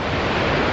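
Loud, steady broadband roar of Norwegian waterfalls close by, a continuous dense rush of falling water with no gaps or talk.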